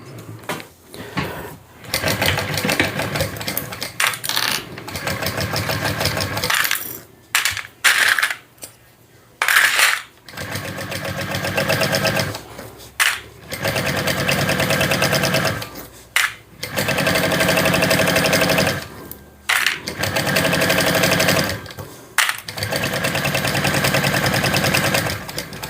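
A sewing machine top stitches a sling bag in rapid, loud, buzzing bursts, stopping and starting in short runs with brief pauses between stitching passes.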